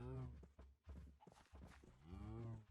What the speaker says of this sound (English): I've found some cows and I just have to bring them back